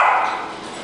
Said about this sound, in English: what's all the barking?